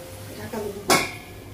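A lid lifted off a pot of rice being cooked in a home kitchen gives one short metallic clank, with faint kitchen noise before and after.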